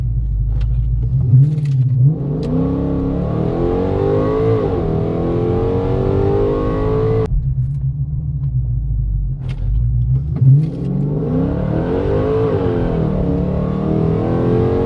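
A built supercharged Hemi engine rumbles loudly up close and revs hard twice as the car launches, with deep throbbing power that climbs and then drops back between pulls.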